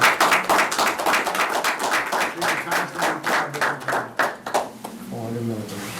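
Meeting attendees at a planning board session clap together, a rhythmic run of distinct, fairly loud claps that fades out as a voice starts talking at the end.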